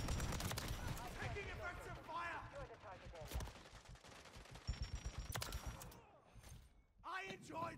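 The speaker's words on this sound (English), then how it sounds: "What an enjoyable fucking sound is coming off this gun." Rapid bursts of gunfire from a gun in Modern Warfare III, loud and close, with dense overlapping shots and game effects filling most of the stretch before a brief lull and another burst at the end.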